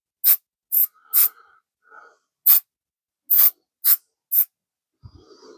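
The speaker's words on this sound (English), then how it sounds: "Let's just spray it down with a little bit of this quick scrub" Otis quick scrub cleaner is sprayed onto a Beretta 92FS pistol in seven short, sharp hissing bursts with gaps between them, close and clear against near silence, followed by a faint low knock.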